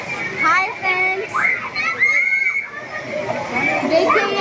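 Two people dipping into chilled waterfall water on a Himachal trip, with splashes and sloshing under loud excited chatter and children's voices close by.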